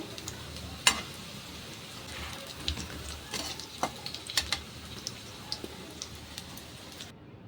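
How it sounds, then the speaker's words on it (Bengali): Soya kofta balls frying in hot oil while being stirred and turned, a steady low sizzle with scattered sharp clicks and scrapes of the spoon against the pan, fairly quiet and without speech. "নাড়াচাড়া করে উল্টে পাল্টে একটু সময় নিয়ে ভালো করে লাল লাল করে ভেজে নেব"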